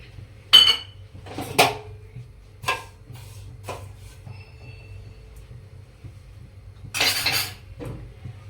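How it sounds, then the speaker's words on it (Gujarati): A bowl of sugar is tipped in amid sharp metal utensil clinks and scrapes in a handful of separate bursts, close and crisp, with quiet gaps between and no voices. "અડધી વાટકી એ જ વાટકી આપણે અડધી વાટકી ખાંડ લીધી એ નાખીશું।"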